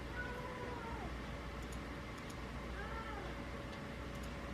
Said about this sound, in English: What are you meowing for?